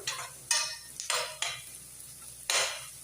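Onions and chili being sautéed for an egg masala, with a soft sizzle under several bursts of a spoon scraping and knocking around the pan, spaced irregularly and close.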